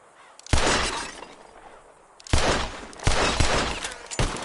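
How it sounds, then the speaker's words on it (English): Glass bottles burst under revolver shots in the video game Red Dead Redemption 2, four sharp loud shattering blasts with ringing debris tails, spaced unevenly over a few seconds. "Whoever shoots more of these bottles wins."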